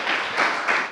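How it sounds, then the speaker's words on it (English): Audience applause for a guest speaker at a venture capital talk, a short burst of many hands clapping, loud and close, fading out within a second. "let's give a round of applause to Roy"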